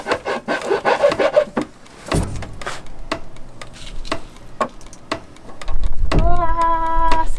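Wood being filed or rasped to enlarge a small hole in a van's panel that held a water pump switch, with a steady scraping rub and brief pauses, a knock near the middle and a whirring electric tone near the end.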